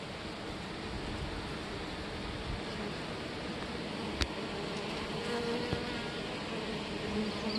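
A swarm of about 5000 honey bees building wax comb fills the air with a dense, steady buzzing drone, close and continuous, with no voices.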